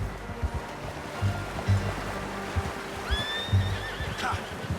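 A horse whinnies in Red Dead Redemption 2, with a clear high neigh near the end over clip-clopping hooves and a soft wash of surf-like ambience.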